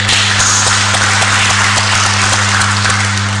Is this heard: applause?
yes